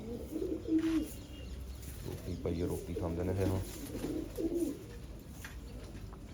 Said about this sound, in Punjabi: ਬੱਚਿਆਂ ਨੂੰ ਚੋਗਾ ਦਿੰਦੇ ਨੇ ਇਹ ਕਬੂਤਰ